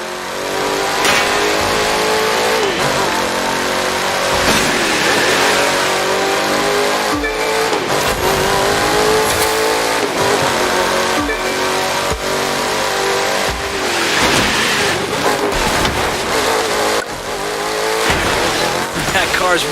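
A sleeper car in the racing game The Crew 2 accelerating hard, engine revving loud and close with gear-change dips and tire squeals throughout, while a voice talks over it.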